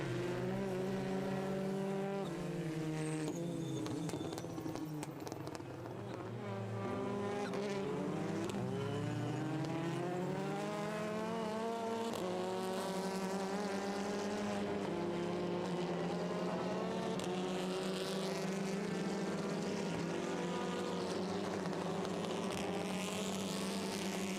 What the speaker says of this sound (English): Black Hyundai and black and red Cupra Leon fighting through the opening chicane.